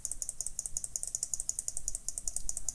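Rapid, evenly spaced mouse clicks while selecting on-screen buttons in LinuxCNC 2.8.0 during setup of an XHC-WHB04B-4 wireless handwheel, close and crisp with no talking.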